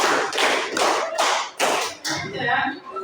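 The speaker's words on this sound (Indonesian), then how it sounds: "Tepuk 5." Children's clapping game: a run of five sharp, close hand claps in an even rhythm, each with a short ring.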